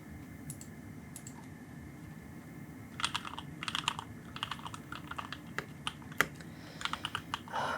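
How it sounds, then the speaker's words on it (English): Quiet steady hum at first, then clicky typing on a computer keyboard starts, irregular bursts of keystrokes close up, with no talking. "we'll start typing now."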